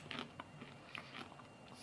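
Japanese-style coated peanuts (cacahuates japoneses) being bitten and chewed, a few faint, dry crunches in an irregular rhythm, quiet and close with no talking.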